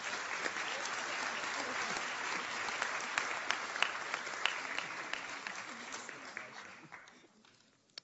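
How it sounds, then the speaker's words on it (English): Applause from a conference audience at the end of a panel, with dense sustained clapping filling the room for several seconds before thinning and fading out. "the room will erupt into applause"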